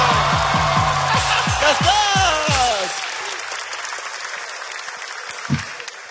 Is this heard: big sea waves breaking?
no